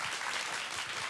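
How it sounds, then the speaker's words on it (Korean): Brief, loud, dense applause from the audience at a winter reading event by broadcast announcers, with no voices over it. "여러분 큰 박수 부탁드립니다."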